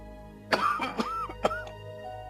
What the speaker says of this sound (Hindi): तुम्हारे अब्बू की खांसी रुकने का नाम नहीं ले रही